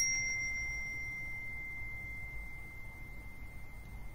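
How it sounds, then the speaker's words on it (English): A small desk chime is struck once, its clear, pure ring sustaining and slowly fading over several seconds in a quiet room. "that'd be neat to ring a little chime as we begin our time"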